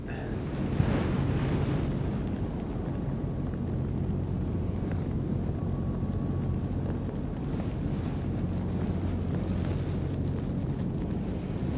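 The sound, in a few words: ocean waves coming in at a harbour wall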